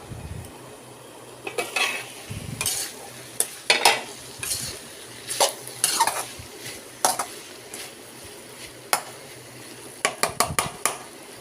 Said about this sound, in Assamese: মই অকণমান লৰাই দিছোঁ, আকৌ ঢাকোন মাৰি থৈ দিছোঁ।